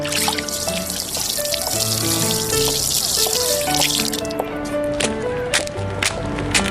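Water pours steadily into a small container set out for a kitten, a close, continuous splashing trickle with no voices.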